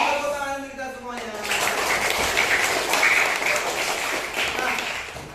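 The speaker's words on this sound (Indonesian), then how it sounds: "Tepuk tangan kita semuanya." An adult speaks briefly, then a classroom of schoolchildren breaks into loud, sustained applause that fills the room for several seconds.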